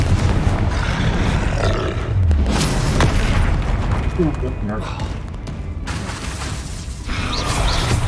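Confringo spell blasts in a magic video game, heavy booming bursts over a dense, continuous roar of game sound, with a voice speaking over the top.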